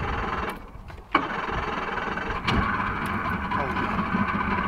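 A boat outboard engine, stored two months in a garage, turns over and starts in a river setting, settling into a loud, steady close running drone while someone talks over it.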